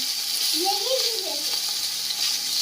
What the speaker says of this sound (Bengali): মাছটা ভাজছি তো আমি